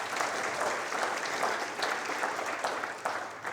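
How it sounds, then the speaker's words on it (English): Sustained audience applause fills a room at a chamber of commerce business breakfast, a steady dense wash of many hands clapping together at close range. "You could give them a big round of applause."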